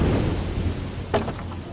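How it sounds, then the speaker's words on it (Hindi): Heavy rain pours steadily at sea during a stranding, with a low rumble of thunder underneath and a brief sharper crack near the end. "बारिश लगातार पूरे 20 घंटों तक बरसती रही"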